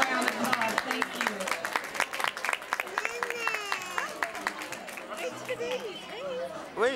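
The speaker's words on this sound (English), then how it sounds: "let's give her a big round of applause" Applause at a Nordstrom fashion show: sharp, scattered claps from a small crowd with people talking and calling out over them throughout.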